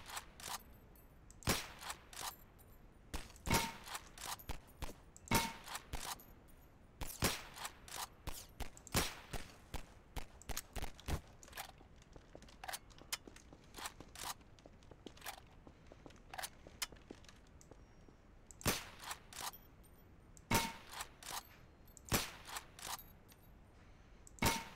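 Gunshots in a video game, sharp isolated cracks fired one after another at irregular intervals, fairly quiet against a faint background, with no talk.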